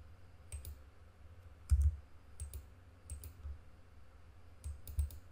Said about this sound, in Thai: ถ้าผมไปดับเบิลคลิกเลยครับ